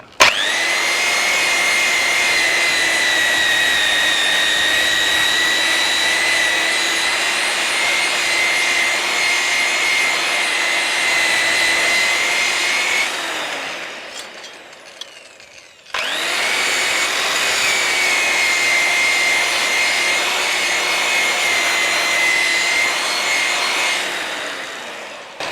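A Banggood burnishing machine runs with a steady, loud whirring grind and bright abrasive hiss, winds down briefly, then starts up again and carries on at full speed with no talking.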